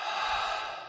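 A single deep breath drawn in and let out slowly during a calm vocal toning exercise, heard close and alone as a soft, airy hiss with no talking.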